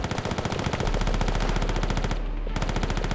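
Rapid gunfire in the World War II shooter Call of Duty: World at War, a fast regular stream of shots with a brief break near the end before the firing resumes, loud and close.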